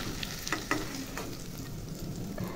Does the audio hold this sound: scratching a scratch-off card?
no